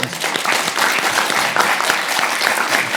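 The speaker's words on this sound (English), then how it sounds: "give him a rousing, thankful applause" Dense, continuous applause from an audience at the close of a talk, steady and fairly loud, with no clear speech.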